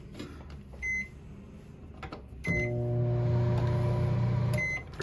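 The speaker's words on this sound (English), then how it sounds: "Moving on, microwave." A microwave oven in a 2022 Salem 26DBUD RV beeps once, then starts up with a steady loud electrical hum that runs for about two seconds before stopping with another short beep.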